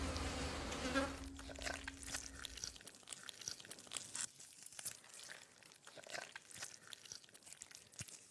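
A fly buzzes close by near an Empusa praying mantis, a faint erratic insect whine over soft crunching and crinkling noises that continue after the buzz fades.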